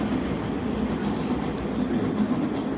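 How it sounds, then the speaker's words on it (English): A train rumbles past in Berlin with a loud, continuous roar and faint rhythmic wheel clatter, steady and close throughout with no pauses. "Another train passing by."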